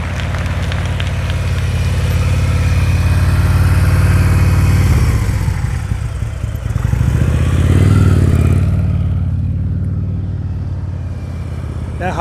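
A motorcycle engine hums low and steady, rising and easing through slow-speed maneuvering practice, fading quieter toward the end.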